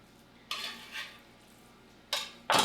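Tomato paste stirred in a pan with a utensil: a few scraping, clinking strokes against the metal, coming in separate bursts with quiet between them and no voices.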